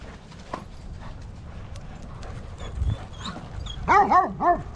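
Dog barking in a few quick, loud, close yelps near the end, after quieter outdoor movement and footsteps on an off-leash hike.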